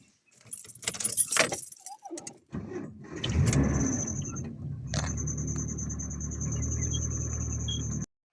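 Car keys jingle up close in bursts, then a car engine cranks and catches into a steady idle that holds to the end, loud and near with no talk.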